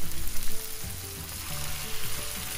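Pomfret fish laid into a pan of frying onions with a little water, a loud, dense close sizzle that surges and settles in uneven waves, without speech.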